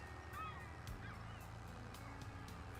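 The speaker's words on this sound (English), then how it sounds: "Seagull's a bit quieter." A seagull calls faintly at a distance over a steady, rushing outdoor background, its cries thin and brief against the constant wash of noise on a farm.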